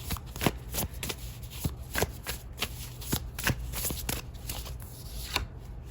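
A deck of oracle cards is shuffled by hand, close and clear, with repeated crisp riffling and slapping bursts in a quick, uneven rhythm throughout.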